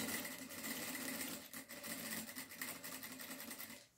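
A sewing machine runs continuously through fabric with a smooth, rapid motor hum and needle chatter, close but fairly quiet, slowing slightly and stopping at the very end.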